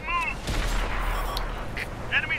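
An M103 heavy tank in World of Tanks on PS4 fires its main cannon at a T-10 in a single sharp blast, with a voice talking over it.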